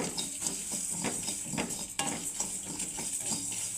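Spices with a pinch of fenugreek fry in a pan for a sour-sweet chalta pickle, giving a soft steady sizzle with scraping stir strokes, quiet and close, without talk.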